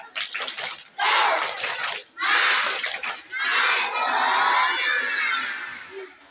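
Children at a Ramadan Islamic storytelling session clap and shout a rhythmic cheer together, loud bursts of group voices and claps in repeated waves.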